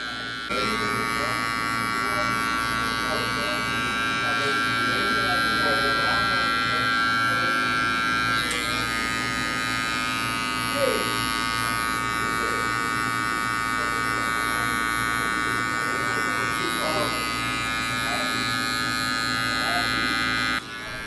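Hair clippers fitted with a number 1 guard, lever open, blend a bald fade in a barbershop. A loud, steady electric buzz runs continuously throughout, close to the listener, while someone talks over it.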